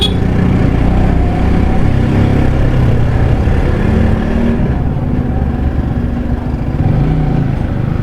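A motorcycle rides through busy local road traffic, a continuous rumble of engine and passing vehicles with occasional revving, loud and close throughout.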